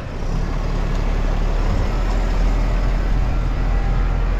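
The diesel engine of a Changfa 1604 tractor drones steadily and loudly while it ploughs a field, a deep, constant rumble close by with no voices.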